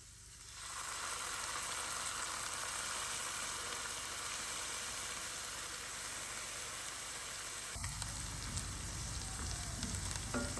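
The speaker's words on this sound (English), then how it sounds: "I add my pimento sauce and give everything a good stir." Pimento sauce sizzling in a pan with garlic and thyme during Caribbean outdoor cooking, a steady, even hiss throughout that thickens briefly near the end as the mixture is stirred; no voices.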